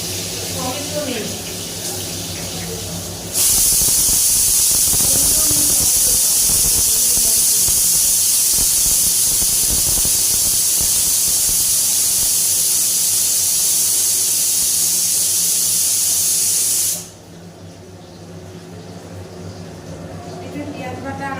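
Onion tempering dropped into hot oil, a sudden loud hiss that bursts in, holds at full strength for about fourteen seconds, then cuts off abruptly, close by, with a voice faintly audible around it.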